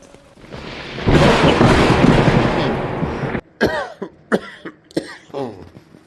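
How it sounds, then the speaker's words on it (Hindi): A burst of harsh, loud coughing lasts a couple of seconds, followed by several shorter separate coughs spaced out. "अरे ये खांसी की आवाज़ कैसी?"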